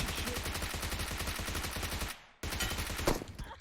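Rapid automatic gunfire from the PUBG battle royale video game, a loud sustained burst of close shots that cuts off briefly and then resumes with more firing.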